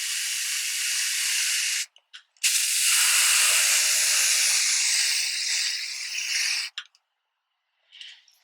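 Aerosol spray hissing outdoors as items are coated on a patio, two long steady bursts of a few seconds each separated by a brief pause, then a short final puff, close and loud with no talk.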